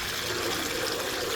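Water squirts from a hand-held squeeze bottle to wash out material, producing a brief, steady hissing spray that stays close and continuous.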